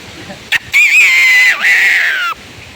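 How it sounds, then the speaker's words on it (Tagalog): A red junglefowl crows loud and close during a storm, one long sustained call with a wavering pitch, preceded by a short sharp burst. "Kahit bagyo, may tumitilaok pa sa labuyo oh."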